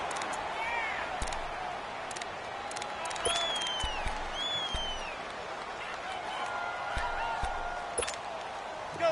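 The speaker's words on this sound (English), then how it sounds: "the crowd getting into it as we come up on a big 3rd down" A stadium crowd in a PS4 American football video game keeps up a steady, moderately loud roar, with a few whistles and brief swells rising over it as the crowd builds before a big third down.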